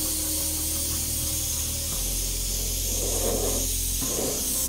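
An airbrush lightly dusting paint onto model barbed wire makes a continuous, close, soft hiss with faint breathy swells, steady throughout with no talking.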